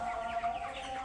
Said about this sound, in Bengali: আজ আবার আমি পোলট্রি মুরগির ফার্মে চলে আসলাম।